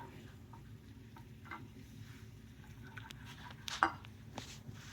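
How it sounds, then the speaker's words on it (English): Spices and half and half being stirred into a blue crab stuffing mixture, giving a soft, continuous scraping and swirling at moderate distance with one brief louder clink near the end; no talking. "Stir in your spices. Do half and half. Stir that up."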